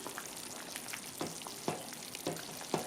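The back of a spoon mashes cooked plantain in a pot, making soft, evenly spaced taps and presses over a faint, steady sizzle.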